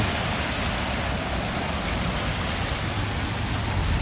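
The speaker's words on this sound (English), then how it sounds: "the rain is a blessing" Rain falls steadily on a Toronto street on a Wednesday, a dense, even hiss of drops on hard surfaces that stays constant throughout.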